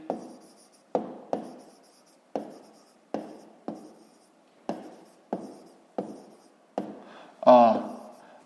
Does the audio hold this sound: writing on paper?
yes